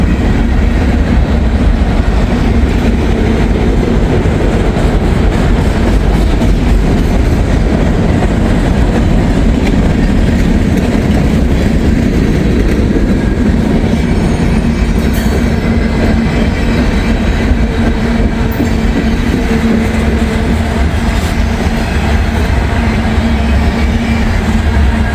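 A short freight train rolls slowly past on the tracks nearby, a loud, continuous rumble of wheels and cars with steady rattling throughout.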